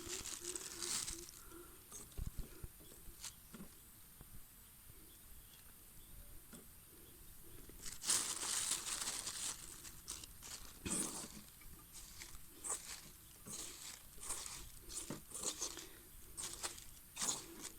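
Hands knead and mix a damp mushroom-growing substrate containing composted buffalo dung, giving soft squelching, crinkling and rustling sounds in irregular close-up bursts, fairly quiet with no talking.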